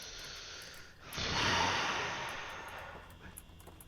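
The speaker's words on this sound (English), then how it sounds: "I can hear her breathing. Mate, that sounds like asthma." Heavy breathing over game voice chat in Garry's Mod, a quiet, hissy exhale that swells after a short pause and then slowly fades, airy and close to the microphone.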